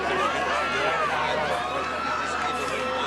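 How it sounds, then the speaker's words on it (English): Crowd noise from spectators at a 2015 Group 21 first grade rugby league grand final, Scone versus Denman, a steady near roar of voices and cheering that holds at even loudness throughout with no break. "Listen to the crowd in the background."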